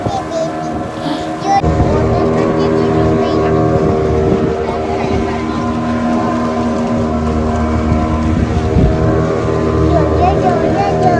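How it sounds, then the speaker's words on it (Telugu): Motorboat ride out to an island off Palolem, Goa, with a loud steady engine drone and heavy wind buffeting throughout, close and continuous. "బోట్ రైడ్ తో ఐలాండ్ వెళ్ళడం అంతా చాలా బాగుంది కదా"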